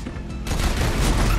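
Vehicle-mounted machine guns firing in the game Spy Swatter 2, a dense rattling barrage that swells after a brief quieter start and keeps going loud to the end.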